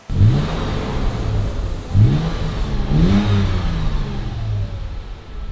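A Toyota 4Runner fitted with a Borla S-Type exhaust is blipped three times and then held at a higher rev, each throttle stab rising and falling in a loud, deep growl close by.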